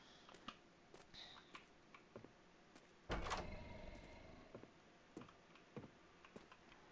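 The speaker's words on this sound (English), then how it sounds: "Something keeps banging every time when I open the door." A door bangs open in the Roblox horror game Doors, Hotel Depths: one sudden loud crash with a resonant ringing tail, set among faint ticking and creaking game ambience.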